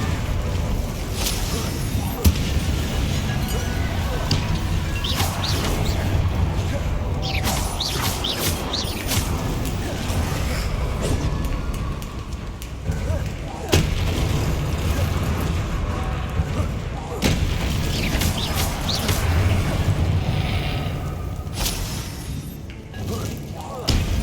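Incendio fire spell cast in Hogwarts Legacy, a steady burst of whooshing, crackling flame with mechanical thuds and creaks, loud and continuous among game sound effects.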